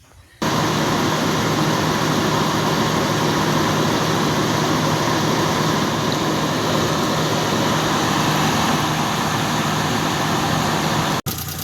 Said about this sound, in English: there's more of a clicky clacky valve noise now, which it sounds healthy